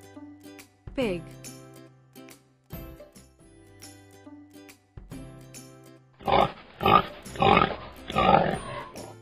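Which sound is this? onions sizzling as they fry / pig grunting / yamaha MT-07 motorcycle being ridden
pig grunting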